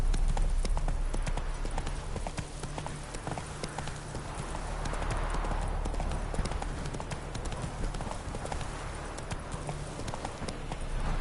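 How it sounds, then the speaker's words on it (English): A horse gallops in a video game, its hooves beating a fast, continuous clip-clop rhythm up close over a loud game soundscape. "Run, Roach. Go, go"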